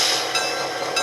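A brief, steady horn blast sounds from an S gauge toy locomotive's Blunami sound decoder, a bright sustained electronic tone held for about a second.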